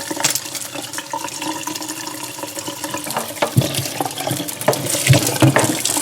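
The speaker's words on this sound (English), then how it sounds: "Like this, I'm washing them to remove ice." Tap water runs steadily over frozen beans being rinsed in a sink to knock off ice, a continuous close splashing stream with small clatters and shifts in the flow.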